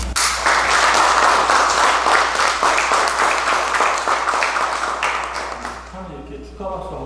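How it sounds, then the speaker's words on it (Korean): Loud congratulatory clapping from a church congregation at an anniversary and book-launch service, vigorous at first and thinning toward the end as a voice begins speaking. "문석호 목사님 축하 박수 힘차게 보내주십니다."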